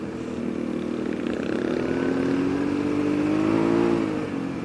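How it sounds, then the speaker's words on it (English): A KTM 690 adventure motorcycle ridden off-road on a trail with soft patches, its single-cylinder engine droning steadily and close, the pitch rising slowly as it revs and then easing off near the end. "But these KTM 690s are nice bikes."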